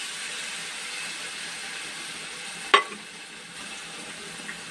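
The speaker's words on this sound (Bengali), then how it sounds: "ভালো করে আবারও আমি এটাকে ভেজে নিচ্ছি" Chicken korma with milk, kewra water and green chillies sizzles gently in a pan in a home kitchen. The frying hiss holds steady, with one sharp clink of a utensil partway through.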